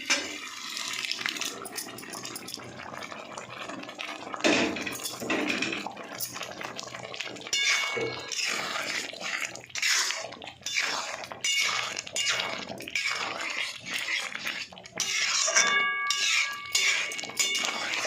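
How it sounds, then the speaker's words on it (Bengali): Boiled dal pours into a pan of fried paneer, a wet, irregular sloshing and splashing that comes in uneven bursts over a quiet background. "এবার আমি ডালটা ঢেলে দেবো"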